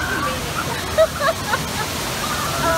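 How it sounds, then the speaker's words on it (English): Steady rushing water from a waterfall beside the River Rampage raft ride at Dollywood in Pigeon Forge, a continuous close wash of spray with brief splashes, heard alongside riders' chatter. "Look at that waterfall."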